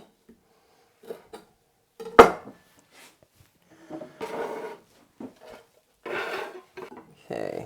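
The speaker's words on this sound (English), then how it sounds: "So here we have some cilantro. I'm just gonna cut that up." Knife chopping fresh cilantro on a board in a home kitchen: scattered soft taps and cuts with one sharp knock, irregular and close, with pauses between strokes.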